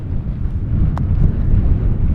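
Steady loud cold wind buffets the microphone on the Pacific Crest Trail in a low, constant roar, with no voices.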